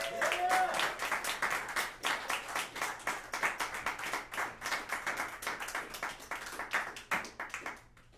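An audience applauds after a jazz duo performance, many hands clapping steadily at close range for several seconds, thinning toward the end, with a brief voice near the start.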